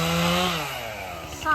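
A chainsaw runs while cutting during tree trimming at a job site, its engine loud and close, dropping in pitch as it bogs into the wood before revving up again at the end.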